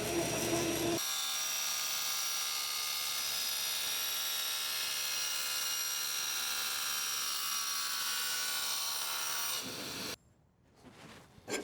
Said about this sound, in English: here we are using a regular wood cutting blade